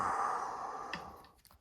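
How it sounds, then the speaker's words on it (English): Heavy breath drawn out through the nose close to the microphone, a long soft airy exhale that fades, followed by a few faint clicks. "Sorry for breathing through my nose on you."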